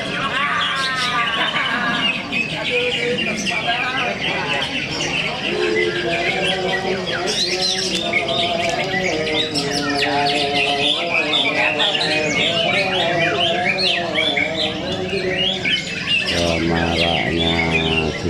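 Dense, overlapping chirps and trills from many songbirds singing at once at a bird-singing contest, loud and continuous, with scattered squawks and voices murmuring in the background.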